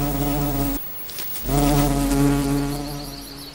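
A wasp buzzes loudly and close, a steady droning whine that breaks off briefly, then returns and carries on at full strength.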